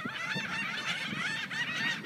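A crowd of birds squabbling over a large loaf of bread, honking loudly and continuously at close range with many overlapping calls.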